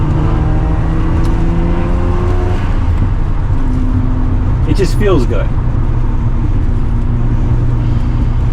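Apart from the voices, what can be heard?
Mazda RX-7 FD engine with aftermarket exhaust while driving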